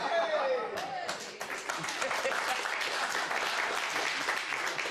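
A studio audience bursts into sustained applause, dense clapping that swells after a brief moment and continues steadily to the end.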